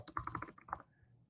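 Quick keystrokes tap on a computer keyboard, about eight crisp close clicks in a fast run, ending with a space bar press, with no voices.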